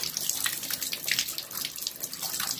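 Water running from a shower in a home bathroom, a steady close hissing spray with splashy fluctuations throughout and no speech.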